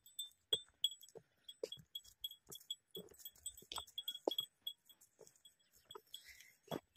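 Goats on a farm bleat now and then between scattered thumps and clinks, with a metallic ringing like a bell. The calls are irregular, moderately close and fairly quiet.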